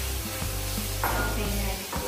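Chicken frying in a pan, a continuous hissing sizzle with small crackles and a low hum beneath, close and steady throughout with no talk.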